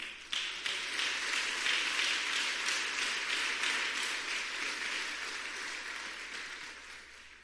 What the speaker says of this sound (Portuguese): Se você crê, aplauda o Senhor.